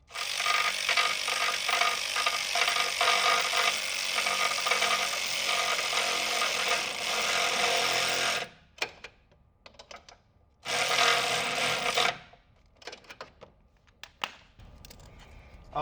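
A hose clamp is tightened onto an intercooler hose during an IMR Stinger intercooler install, giving a long steady mechanical whir that breaks off into several short, choppy bursts near the end.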